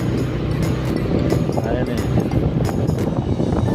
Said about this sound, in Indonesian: ada truk.